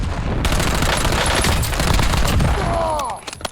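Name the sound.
LC10 gunfire in Call of Duty Warzone video game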